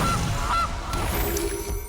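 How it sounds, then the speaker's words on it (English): A goose honk from MTG Arena, two short nasal honks close up over a low background hum, with no talking. "It's a goose."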